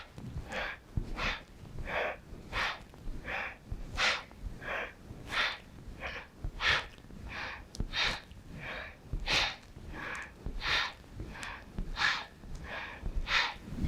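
Fast rhythmic yogic breathing, a steady train of about twenty quick, forceful nasal inhales and exhales alternating evenly, close and clear with no talking.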